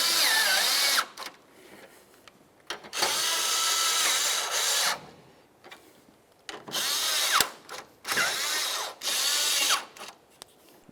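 A power drill or impact driver tightens the grille bolts on a 1999-2003 Toyota Solara, running in several close, loud whirring bursts of varying length with short pauses between them.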